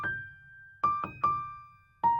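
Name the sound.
simple piano melody without effects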